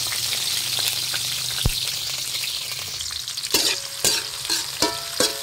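Onion, tomato and garlic sauté in a hot pan for squid adobo, hissing in a loud, steady sizzle; toward the end, sharp clacks of a utensil against the pan break in several times.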